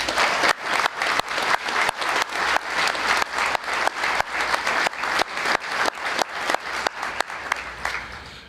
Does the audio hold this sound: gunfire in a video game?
no